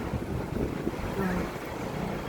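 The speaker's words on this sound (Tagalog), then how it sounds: "mahangin, kita niyo yung mga puno" Strong wind roars in gusts against the microphone outdoors near a park with trees, a dense rushing noise throughout with no clear pauses.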